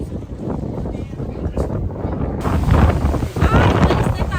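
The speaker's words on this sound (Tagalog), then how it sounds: "So cold! So windy!" Strong, gusty wind buffets the microphone outdoors in the cold at Cristo Roto, a hilltop site in Mexico, roaring louder partway through, with a voice faintly present.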